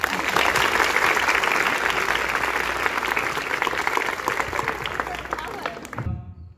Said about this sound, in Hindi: तो बजाते रहो ताली।